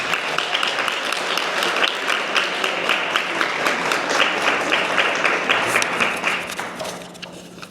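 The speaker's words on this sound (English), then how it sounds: "One more round of applause for our 2026 inductees." An audience claps for National Honor Society inductees at a school ceremony, a lively burst of many hands that holds strong and then tapers off toward the end.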